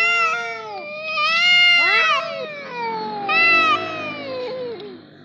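Cats fighting, giving drawn-out, rising and falling yowls and caterwauls in several bursts, close and loud, with a low background murmur underneath.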